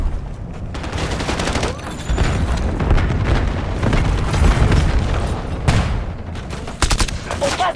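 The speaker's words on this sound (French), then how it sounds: "J'active une bombe collante." Call of Duty Black Ops 7 multiplayer combat with a sticky bomb and gunfire: dense bursts of rapid automatic fire and booming blasts, loud and continuous, under faint game voice lines.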